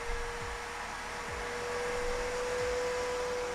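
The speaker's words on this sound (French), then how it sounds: "Hop, je vais allumer l'aspirateur." A Redkey W12 all-in-one vacuum cleaner runs at a steady pitch, with a constant motor whine and airflow hiss and a few low bumps as it moves. Nobody speaks.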